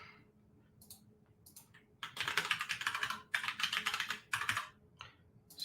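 Someone types a new password on a computer keyboard, a few soft taps at first, then steady close-up bursts of rapid key clicks with short pauses between.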